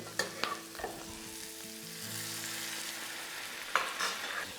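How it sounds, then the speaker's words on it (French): Asparagus tips and small Bresse peppers cooking in chicken stock in a pan, a steady close sizzle with a few sharp clinks and stirring scrapes, no voices. "Je vais juste faire mijoter le tout avec un peu de bouillon de volaille"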